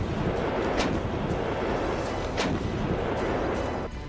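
An M777 howitzer booms with heavy artillery fire, two sharp blasts rising out of a dense, continuous low rumble at steady loudness, no voices present.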